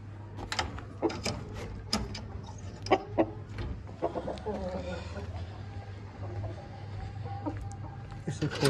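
Chinese breed chickens clucking in short, irregular bursts over a steady low hum, with occasional louder squawks close by.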